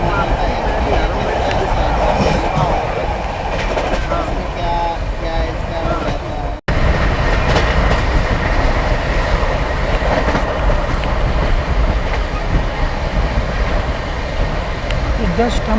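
A Rajdhani express train running at 130 km/h, a loud continuous rumble of wheels and rail noise with rhythmic clatter heard from on board, broken by a brief dropout partway through.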